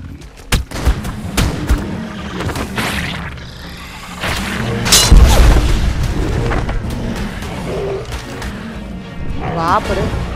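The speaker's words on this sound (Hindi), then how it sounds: "वहां पर रॉकेट ब्रिगेड लॉन्चर चल रहे" Rocket launchers fire in ARK: Survival of the Fittest PvP combat, producing a series of loud booms and blasts at irregular intervals, some near and some farther off, with a voice talking over the action.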